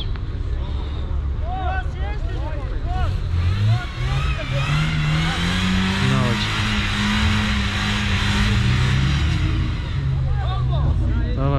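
An off-road Gelik with no diff locks and bald tyres revs hard trying to climb out of a pit, the engine roaring loud and continuous under excited voices shouting nearby.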